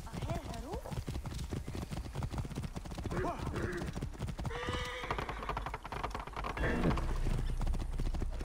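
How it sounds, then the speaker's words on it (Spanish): Horse galloping in the Assassin's Creed Origins video game: quick rhythmic hoof clip-clop running throughout at moderate distance, with someone talking over it. "Sí que corre bien el caballito"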